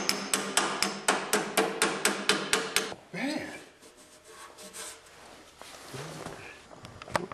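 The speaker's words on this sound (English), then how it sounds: "Hammer and dolly, good. A couple more whacks here and there" Rapid, evenly spaced hammer blows ring out on a dolly against the sheet metal of an Allis Chalmers 310 tractor fender, about a dozen close metallic strikes, followed by scraping handling noise and a few scattered taps.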